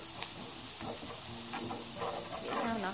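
Garlic frying to golden in oil in a pan on a gas stove for egg fried rice, giving a steady close hiss and sizzle throughout with faint crackles, no talking.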